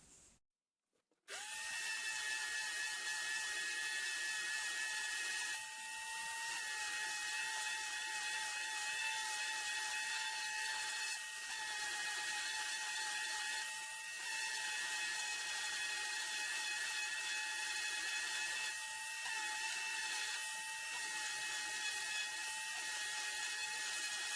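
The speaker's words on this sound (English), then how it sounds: "I'm going to start sanding now. I've got a 120 grit sandpaper on here" A high-pitched power sander with 120 grit sandpaper whirs continuously and close for a long stretch after a brief start, with slight dips in pitch as it works a surface.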